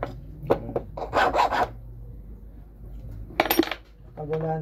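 Metal file rasping against a cuticle nipper in repeated short bursts, close and fairly loud, with brief pauses between strokes and light clinks of metal.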